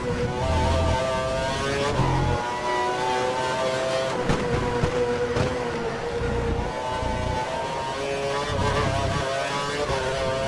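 A Formula 1 car's engine in the racing game F1 2012 on a qualifying lap at the German circuit, a continuous high-pitched whine that rises and falls through gear shifts and braking, loud and unbroken throughout.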